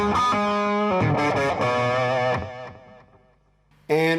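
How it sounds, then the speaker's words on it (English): Distorted electric guitar chords and notes in an 80s hair metal tone ringing out with a faint, subtle digital delay trailing behind, then a pause before another loud chord. "over here we have a really subtle digital delay"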